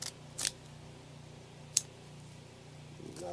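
A cigar cutter snips the end cap off a Cuban Stock Extra Churchill Maduro cigar, with two crisp, close clips about a second apart and a softer third near the end, in a quiet room.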